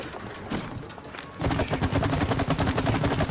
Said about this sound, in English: Big boom, big boom. Bigger, bigger. More boom.